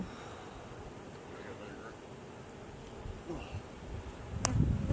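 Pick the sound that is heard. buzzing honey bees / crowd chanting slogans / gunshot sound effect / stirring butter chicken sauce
buzzing honey bees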